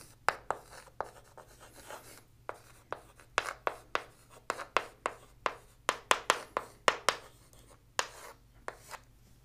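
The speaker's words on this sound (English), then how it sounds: "Let me write it down." Quick strokes of handwriting come in irregular bursts, each scratch sharp and close, with short pauses between words and no talking.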